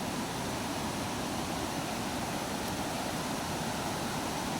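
Strong river water rushing and rising over rocks, a steady broadband roar that holds constant throughout with no voices.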